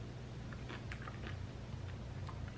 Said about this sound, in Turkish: Çilekler gerçekten çok kıtır.